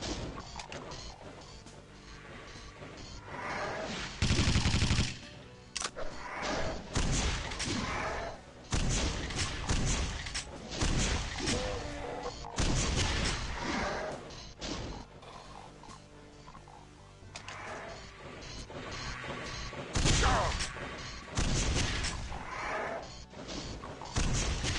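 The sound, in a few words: gunfire in FreeDoom video game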